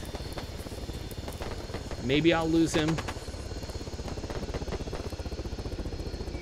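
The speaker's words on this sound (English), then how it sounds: "If the chopper gives up on me, then I'll radio in at my evac point" A helicopter's rapid rotor chop pulses steadily through the whole stretch of an Arma 3 mission, with someone speaking briefly over it in the middle.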